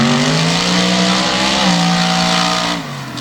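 A modified drag racing car launches hard off the starting line at a drag strip, a loud, close engine roar with rising and shifting pitch that holds steady, then drops away abruptly near the end.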